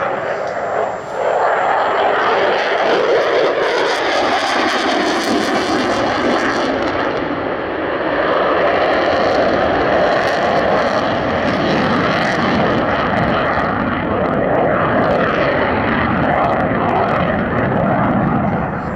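Eurofighter Typhoon jet flying at the Duxford air show, a loud, continuous roaring rumble that holds near for the whole stretch and swells slightly in the middle.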